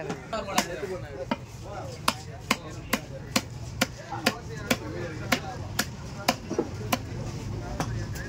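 Fish being chopped at the Kasimedu fish market: sharp, evenly spaced blade strikes on a cutting surface land roughly twice a second, up close over a constant low murmur of market background noise.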